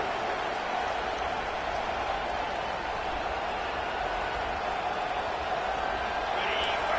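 A raucous stadium crowd in College Football 25 roars in a dense, continuous wash of cheering and noise late in a game, steady and loud throughout with no breaks.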